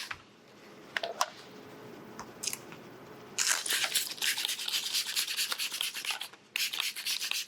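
Soapy water slip solution is sprayed onto SunTek paint protection film on a Ferrari GTC4Lusso. Close hissing spray bursts run for several seconds, with scattered rubbing and ticking sounds before them.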